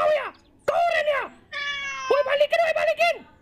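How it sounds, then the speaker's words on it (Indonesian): A cat meows repeatedly in long, tonal, drawn-out calls, loud and close, with short pauses between them and no other sound competing. "Ada kucing."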